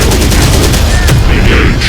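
Rapid gunfire and explosive bursts from the Terminator Dark Fate Defiance video game, a loud, dense fusillade filling the whole clip without pause, with no voices.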